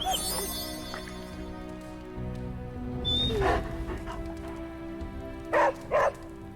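A dog barks and yips twice near the end of a scene in the video game Midnight Suns, set on the Abbey grounds, after a stretch of low background music and soft whimpering sounds.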